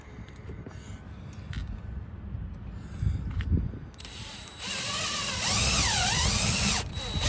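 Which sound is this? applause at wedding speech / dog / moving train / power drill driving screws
power drill driving screws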